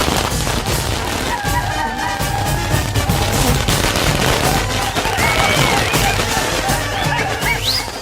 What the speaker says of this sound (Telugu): బాంబులు!